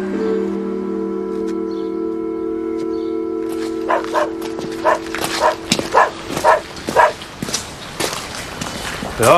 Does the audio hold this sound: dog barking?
yes